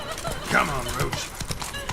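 Hooves of a horse gallop in rapid clip-clop rhythm in The Witcher 3, with a brief whinny-like cry under game sound and a voice speaking over it.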